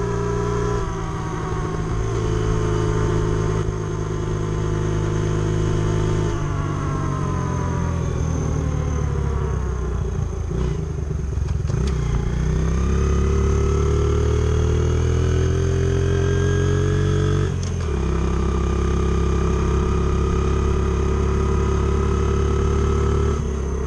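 An XR70 dirt bike fitted with a BBR 88cc big bore kit runs in third gear, its loud, close engine holding a steady drone that rises and falls with throttle changes for the whole stretch, with no talking.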